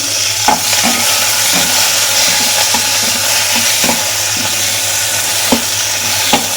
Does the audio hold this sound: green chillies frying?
yes